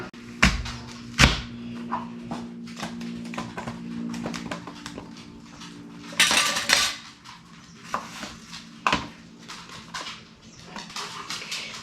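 A knife cuts apple slices again on a board while apples are prepared for freeze drying, giving scattered sharp clicks and knocks with a louder scraping burst midway, amid kitchen clatter.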